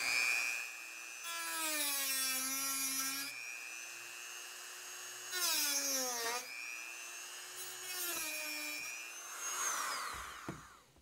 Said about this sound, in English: So we'll go ahead and get started with the Dremel here.